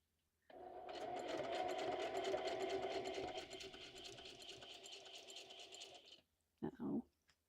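A sewing machine stitches in reverse, backstitching through a handmade junk journal: a steady, close mechanical whir runs for about six seconds, then stops, followed by a brief burst of motor noise.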